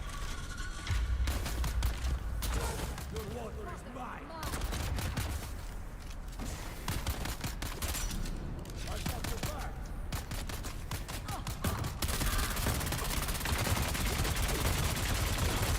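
Rapid gunfire from an SMG-style weapon in the video game Dune: Awakening, dense bursts of automatic shots rattling almost nonstop, loud and close, with a steady heavier barrage toward the end.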